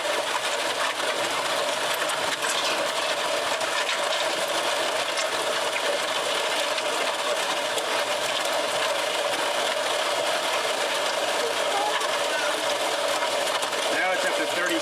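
A mud mixer machine runs steadily and loudly, its dry mix with the setting pumped up from 25 to 35, giving a continuous mechanical whir and rattle with a faint voice in the background.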